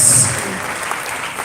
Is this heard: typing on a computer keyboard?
no